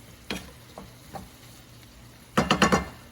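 Potatoes cooking in a pan are stirred, giving a soft sizzle with a couple of isolated scrapes, then a quick burst of four or five clattering stirs near the end, close and fairly quiet.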